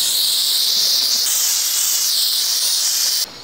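A close, loud steam cleaner hiss on a sneaker outdoors that holds steady for about three seconds before stopping suddenly.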